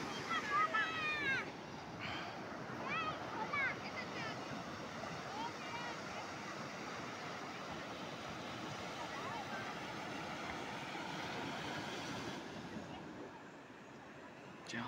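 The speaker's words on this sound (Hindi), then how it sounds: "लहरें इतनी अच्छी आ रही हैं" Sea waves rolling onto Betalbatim beach in Goa, a steady broad wash of surf with wind buffeting the microphone, someone speaking over it near the start.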